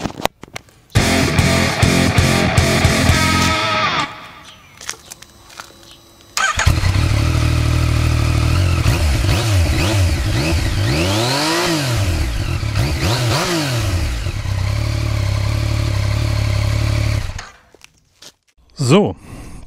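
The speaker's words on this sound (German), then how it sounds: "dann wollen wir mal hören, wie die Yamaha XSR 900 so klingt" A Yamaha XSR 900 motorcycle with a short, compact exhaust cranks and fires up close by, then settles into a loud idle with several rising and falling revs before the engine cuts off.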